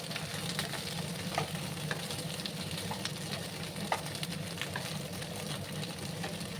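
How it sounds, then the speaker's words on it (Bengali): Okra frying in a pan with potatoes for a thin aloo bhindi curry, a soft, steady sizzle with scattered small pops and crackles, fairly quiet and without speech. "আমি একটু ভাজা ভাজা করে দিচ্ছি ঢেঁড়সগুলোকে।"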